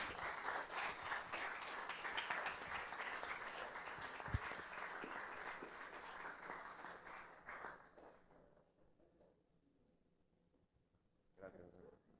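An audience at a science lecture on nanomaterials in Calkiní, Campeche, applauds warmly for about eight seconds with some voices mixed in, then the clapping fades to near quiet before a brief final patter.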